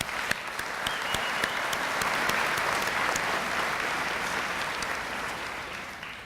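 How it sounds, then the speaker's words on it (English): A commencement audience gives a sustained round of applause for guests and elected officials at a college graduation ceremony. The clapping is dense and steady throughout, tapering slightly at the end. "Please give them a round of applause."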